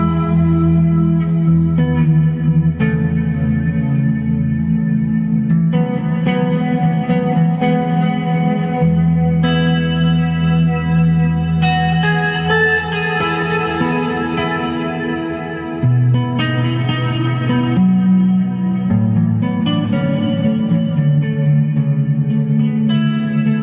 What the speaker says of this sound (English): If you add a reverb to that, and this is from the Plethora X5.